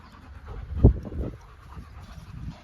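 A German Shepherd dog pants in short, rapid breaths close by, with one louder huff partway through and no talk.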